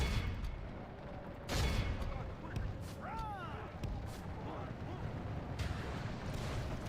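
Cannon fire in a Total War battle sounds as a dull boom, then scattered distant blasts and crackling musketry under a busy battlefield rumble, with someone talking over it.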